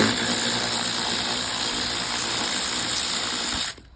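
A cheap Amazon cordless ratchet turns T30 Torx screws on a 2014 BMW 640/650 M6 soft-close door lock actuator, making a loud, continuous motor whir that holds steady for several seconds and then stops abruptly.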